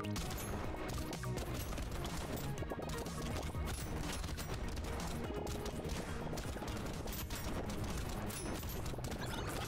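Video game nuclear rocket launchers fire with enlarged explosions, a dense continuous barrage of rapid blasts and crackling impacts filling the whole stretch at steady loudness.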